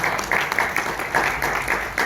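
An audience at a Pakistani film launch ceremony applauds, with dense, steady clapping that fills the room for a couple of seconds.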